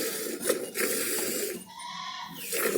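Cows and buffaloes at a village dairy farm call out with drawn-out bleating moos, several nearby calls with steady farmyard background noise.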